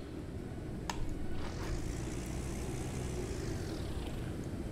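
Enemy warplanes in the wartime strategy game Panzer Corps 2, set in snowy winter fighting in 1942: a steady droning aircraft engine rumble passing overhead, with a swelling and fading whine and a sharp click near the start.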